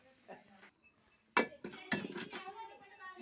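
A spoon stirs biryani in a metal pot, giving scattered clinks and scrapes close by, while people talk in the background.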